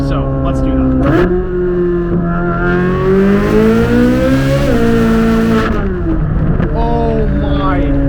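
A C8 Corvette Z06 engine revs hard past 4,500 RPM from inside the car, a loud sustained rising wail that climbs, dips and climbs again, with a brief shift break and then settling near the end.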